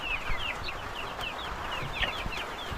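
Chickens clucking repeatedly during feeding on a farm in St Mary, with rain falling; the clucks come fairly close and steady over a constant wash of background noise.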